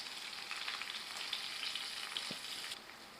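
Stuffed vegetables such as eggplant, okra and snake gourd fry on a low flame, giving a steady, soft sizzle with fine crackles throughout and a small clink near the end.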